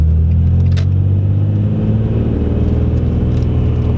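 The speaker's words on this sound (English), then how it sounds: "So it's loud, and I'm not gonna say it's the loudest exhaust in the world." A car with a loud catback exhaust climbs a low hill in a neighborhood, its deep, steady engine rumble droning loud and close throughout with no talk.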